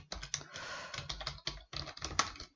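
Rapid, uneven bursts of keystrokes on a computer keyboard while JavaScript code is being typed, close and fairly clear, with short pauses between clusters of taps and no voice.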